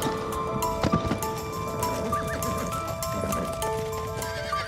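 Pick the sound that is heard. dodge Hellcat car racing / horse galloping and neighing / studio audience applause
horse galloping and neighing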